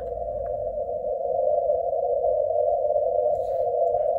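A CW radio signal on an Icom IC-7300 transceiver with noise reduction applied, a steady, clean mid-pitched tone held continuously over a low, quieter background hiss, with no voices.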